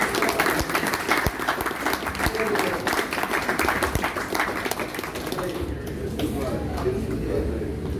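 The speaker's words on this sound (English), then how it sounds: "let us just to clap our hands in applause" Wedding guests at a ceremony at Maliu Mai applaud steadily for several seconds after the ring exchange. A voice speaks over the clapping, which stays dense and fairly close and eases toward the end.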